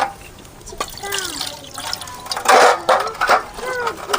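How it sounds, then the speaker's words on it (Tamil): Banana leaf curry simmers in a pot, with soft bubbling and gurgling liquid sounds close by, swelling into a brief louder burst of boiling. "நல்லா கொதிச்சு வேகுது."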